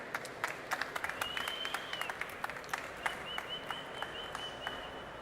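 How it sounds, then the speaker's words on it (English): Audience applause at a Devconnect conference stage in Argentina, a steady wash of many hands clapping with sharp individual claps standing out, moderately distant in a large hall with no talking over it. "Please, let's give them a round of applause."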